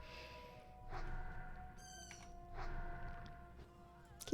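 A cat meows several times, drawn-out tonal calls spaced a second or more apart, moderately close over a soft low background hum, with a short sharp sound at the very end.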